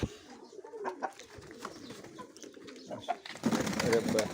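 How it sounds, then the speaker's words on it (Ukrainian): Pigeons cooing in a pigeon loft with marbled and grey-barred birds, soft coos and rustling close by under ongoing background talk, growing louder and busier toward the end. "Голуб, красивий голуб."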